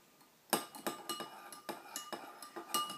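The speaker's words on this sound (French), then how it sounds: "Vous mettez votre pièce dans l'eau, comme ceci, et vous remuez" A coin stirred in a bowl of water clinks repeatedly against the bowl in a quick, uneven series of close, light metallic taps after a quiet start.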